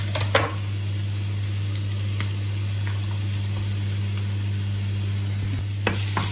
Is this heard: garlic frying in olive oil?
yes